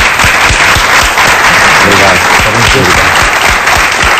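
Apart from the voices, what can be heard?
studio audience applause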